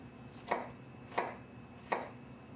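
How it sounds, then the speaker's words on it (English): A knife finely chopping onion on a board. Three crisp, evenly spaced chops land about two-thirds of a second apart, close and clear against a quiet background with no talk. "You try to chop the onion very finely"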